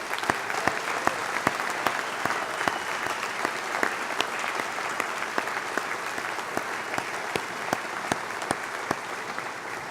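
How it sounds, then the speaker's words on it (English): A large audience at a university graduation ceremony gives the graduands a sustained round of applause, dense clapping with a few sharper, louder claps standing out near the microphone, steady throughout. "Well, graduands, you did it. Congratulations. One more round of applause."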